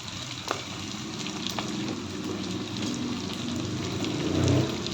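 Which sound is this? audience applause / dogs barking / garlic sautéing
garlic sautéing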